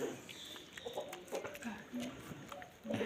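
Clucking chickens and roosters, several birds calling in short bursts close by, with no talking.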